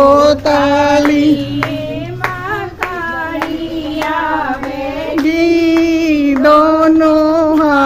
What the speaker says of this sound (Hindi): दोनों हाथ बजाओ ताली।